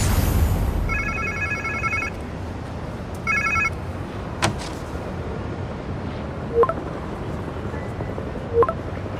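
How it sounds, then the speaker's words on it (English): A telephone in the game Spider-Man 2 rings in two electronic bursts over a steady low rumble, followed by a few sharp thuds and short tonal blips. "Sounds like somebody's phone."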